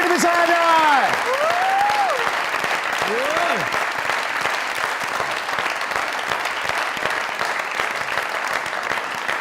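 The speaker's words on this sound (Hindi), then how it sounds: "जोरदार तालियां लिविंग लेजेंड के लिए" Loud, sustained applause from a studio audience on a comedy talk show greeting a veteran actor's entrance, with brief voice or whistle-like tones over the dense clapping at the start before it settles into steady, even applause.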